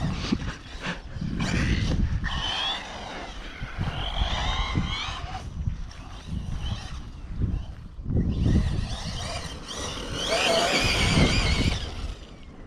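A radio-controlled buggy car drives and drifts outdoors, its whining motor rising and falling in several bursts with gravelly tyre scrabbling between passes.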